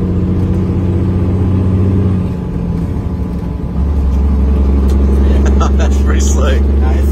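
A vehicle engine with a Super 10 transmission pulls hard under throttle, a loud, steady droning growl that dips briefly, then settles into a deeper, stronger roar.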